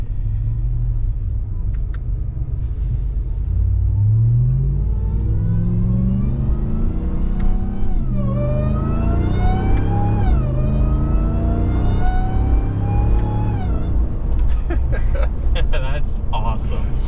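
A RAM TRX engine fitted with a JMB metal intake revs and rumbles, with its pitch climbing steadily through several rising sweeps, loud and close for the whole stretch.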